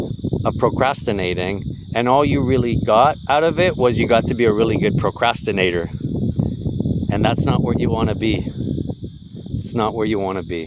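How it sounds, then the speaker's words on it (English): Crickets chirp outdoors in a steady, high, continuous drone beneath someone talking close to the microphone, with light wind in the background. "All I hear is wind, the chirping of crickets, birds."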